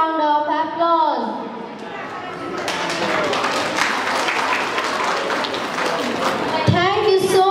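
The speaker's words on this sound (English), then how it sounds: "I welcome you all with a big round of applause" Audience applause fills the room at a school Parents' Day event, a dense wash of clapping that swells after a woman's spoken welcome and runs steadily before fading as she speaks again.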